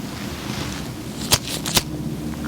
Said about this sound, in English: I'm just going to be snapping my fingers either a far distance or a closer distance.